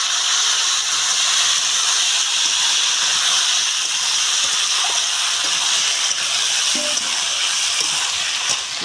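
Bottle gourd and potato sizzle in hot oil with five-spice (panch phoron), a loud, steady hiss that continues unbroken, with faint clinks of stirring underneath.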